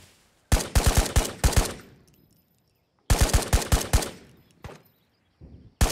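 Bursts of rapid automatic gunfire in the VR shooter game Ghosts of Tabor, two long volleys of sharp shots with a pause between, then a few shorter trailing bursts.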